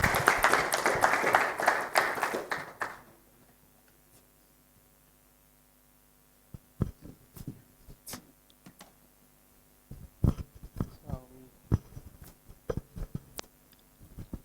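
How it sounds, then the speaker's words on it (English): Applause from a meetup audience in Abuja greeting a speaker, a dense burst of clapping for about three seconds that cuts off, followed by scattered isolated claps and handling knocks over a faint steady hum. "So let's give him a round of applause."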